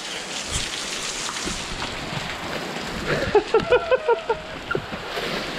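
Heavy rain pours down steadily in the Cameron Highlands, Malaysia, a dense continuous hiss with a short run of louder rhythmic drips or taps near the end.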